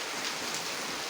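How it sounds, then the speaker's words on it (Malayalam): Heavy rain with wind pours down in a steady, dense broadband hiss, loud and continuous with no distinct drops or voices. "അവിടേക്ക് കാറ്റും മഴയാണ്"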